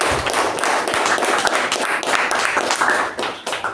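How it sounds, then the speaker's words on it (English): A Toastmasters meeting audience gives a dense, sustained round of hand clapping for Sergeant Toastmaster Deepa, loud and continuous before tapering off near the end. "please give a huge round of applause for our Sergeant Toastmaster Deepa"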